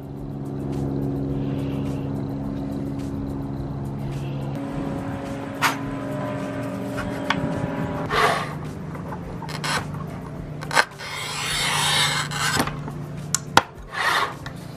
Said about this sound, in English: Let's cut some glass.